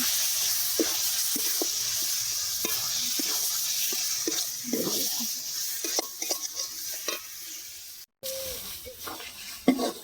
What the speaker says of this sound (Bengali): এবার ভালো করে নেড়ে চেড়ে আর একটু ভাজবো